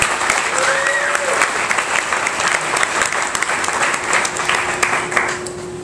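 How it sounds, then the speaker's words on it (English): An audience at an urban design talk applauds to welcome the speaker Alex to the stage: loud, continuous clapping for about six seconds, with a faint tone running beneath it. "Please, big round of applause."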